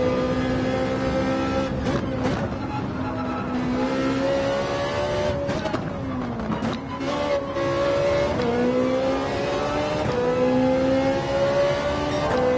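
Honda NSX race car engine at Suzuka Circuit in Gran Turismo 7, revving hard and continuously, its pitch climbing and dropping through gear shifts, loud and close throughout.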